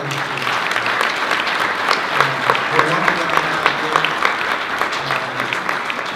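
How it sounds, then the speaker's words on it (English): Steady applause from an audience at a school board of education meeting, a dense mass of overlapping claps at moderate loudness lasting throughout, with a few voices faintly mixed in. "I just want to give her another round of applause"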